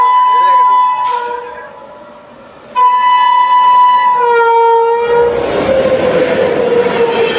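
A Coalfield Superfast Express locomotive sounding long, steady horn blasts while passing slowly, the loud horn cutting out briefly and returning before the rumble and clatter of the coaches builds up close by.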